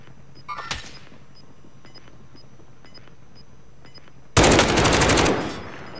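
Gunfire in Call of Duty: Modern Warfare: a single sharp shot near the start, then faint game beeps and clicks, ending in a loud, fast automatic burst of rapid shots lasting over a second.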